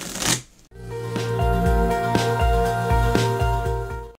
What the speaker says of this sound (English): So let me quickly shuffle these cards.